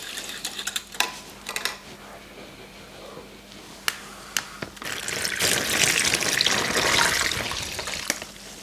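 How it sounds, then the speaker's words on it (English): Brine mixture is poured into a bag for Mangalitsa pork chops: a few soft clicks and handling sounds, then a rushing, sloshing pour of liquid that swells for a few seconds before easing off. "now I'm going to pour our brine mixture"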